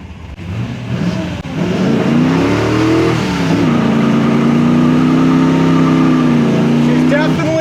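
A 1970 Camaro Z28 V8 engine accelerates hard, its loud revving note rising and holding as the RPMs climb, heard close-up with a voice talking underneath.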